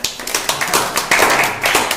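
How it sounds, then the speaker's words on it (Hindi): A burst of hand clapping from a small group in a school science class, sharp uneven claps close by for about two seconds, with no talking. "एक बार के लिए तालियां तो हो जाए"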